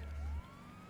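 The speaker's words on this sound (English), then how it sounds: "Turn off the sirens." A police car siren in GTA 5 sounds a brief rising electronic wail, moderately loud, with a deep rumble dropping out partway through.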